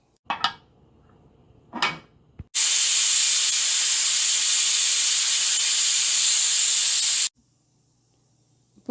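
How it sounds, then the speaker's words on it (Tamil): A pressure cooker of tomato rice lets out a long, loud, steady hiss of escaping steam for several seconds, preceded by two short clattering bursts, then cuts off abruptly into near silence. "குக்கரை மூடிட்டு ஒரு விசில் சவுண்டு வந்துட்டு"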